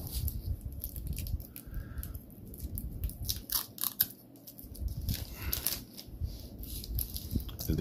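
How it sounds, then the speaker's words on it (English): A titanium bracelet for an Aragon Divemaster GMT watch being unwrapped from its packaging, close crinkling, rustling and light metallic clinks and rattles in irregular bursts. "I think first we'll unwrap it."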